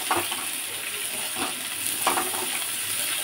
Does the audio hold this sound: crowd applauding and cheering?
no